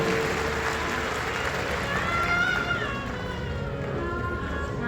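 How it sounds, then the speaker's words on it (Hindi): Applause from a large crowd at a Shiv Mahapuran katha religious gathering, a dense steady clapping that fills the whole stretch, with some voices mixed in. "ताली बजाओ मेरी माता के लिए।"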